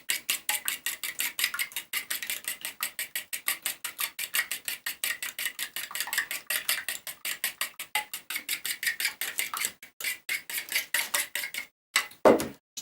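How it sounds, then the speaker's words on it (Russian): A whisk beats eggs and salt in a bowl with rapid, steady metallic clicks against the sides, a continuous rhythmic ticking that pauses briefly near the end, close and alone without talk. "Добавляем соль в яйца и взбиваем."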